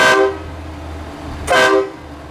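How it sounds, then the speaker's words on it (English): A train horn fitted to a truck sounds in two loud, close blasts, a short one at the start and another about a second and a half later, each cutting off over a low idling rumble. "what that does is it turns on the train horn"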